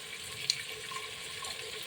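Drinking water is poured out at a meal, a soft, steady trickle with a brief light clink early on, fairly faint in a quiet room.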